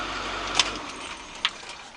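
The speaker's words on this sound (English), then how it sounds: "So what I'll do, I'll turn the engine off." A school bus engine's low rumble cuts out as the key is turned off, with a sharp key click at shutdown and another small click afterwards in the quieter cab.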